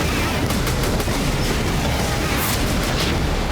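Explosions and artillery fire in Aleppo, Syria, come as a series of sharp booms and cracks over a dense, noisy background. Several bursts are spread irregularly across a few seconds.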